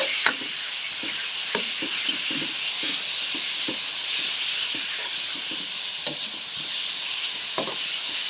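Pork frying in a pan with green curry paste for a Thai green curry, a continuous hissing sizzle with regular light stirring scrapes and taps throughout.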